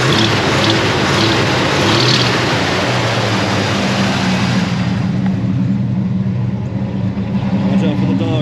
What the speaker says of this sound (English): Still got an exhaust leak.